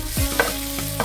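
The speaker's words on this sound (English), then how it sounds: "Lightly fry onions." Chopped onions lightly frying in cooking oil with cumin seeds for a vegan potato samosa filling, a close soft sizzle with brief stirring scrapes over about a second.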